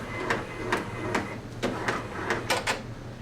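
Multi-needle embroidery machine moving its hoop into position, a steady motor hum with a series of evenly spaced mechanical clunks and whirs, close by and alone.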